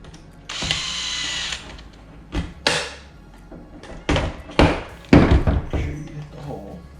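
A power driver whirs in short bursts as screws are driven into a Dyson V7/V8 cordless vacuum battery pack, with a longer opening run followed by several brief, close spins and clunks.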